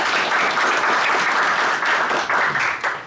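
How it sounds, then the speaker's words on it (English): A live audience at a fall 2023 economic forum in the Portland and Salem area claps in steady, dense applause that holds for about three seconds and eases slightly at the end. "let's give them a round of applause"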